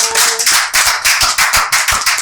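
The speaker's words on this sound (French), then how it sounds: "on va encore applaudir pour Madame Damaris" A studio audience at a TV quiz show claps steadily for a contestant, a loud, dense burst of hand claps that pulses in waves with no talk over it.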